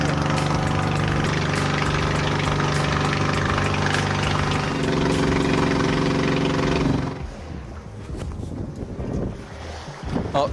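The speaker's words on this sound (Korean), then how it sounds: "이 정도 엔진 소리면 내가 하는 말 하나도 안 들리겠다" A boat engine drones loud and steady for about seven seconds with wind buffeting the microphone on a crossing near Phuket, then cuts to a quieter wet scene with scattered splashes.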